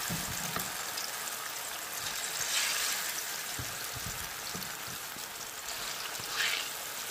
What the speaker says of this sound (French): Et mon huile qui est assez chaude, je vais venir renverser mes morceaux de plantain.